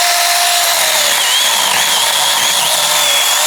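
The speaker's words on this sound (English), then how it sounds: "It's a 6-inch chainsaw, and you can see that I was getting a little kickback." A small 6-inch battery chainsaw runs loud and close, its high-pitched whine steady and dipping slightly as it bites through a branch.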